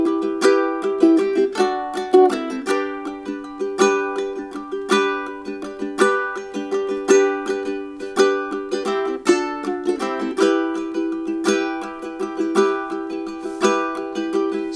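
A ukulele strummed steadily in a lilting 3/4 waltz rhythm, with bright repeated chords, close and moderately loud with no voices.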